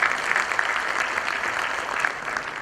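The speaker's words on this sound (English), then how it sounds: "I think we should give him a big round of applause." Applause from an audience at a national conference, a continuous wash of many hands clapping at moderate distance with no talk over it.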